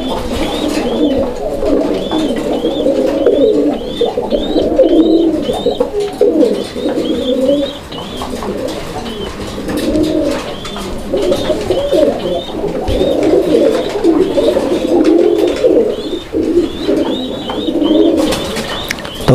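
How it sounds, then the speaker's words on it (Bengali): A pair of blue bar Mukhi pigeons cooing close by, with loud, repeated throaty coos in rolling bursts and a few light chirps over a steady background. "এটা হচ্ছে ব্লুবার মুখী কবুতরের একটা জোড়া।"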